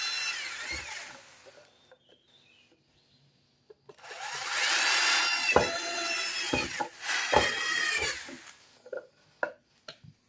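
An electric drill whirs in several bursts, close and loud, drilling holes through metal with short pauses and knocks between the drilling runs.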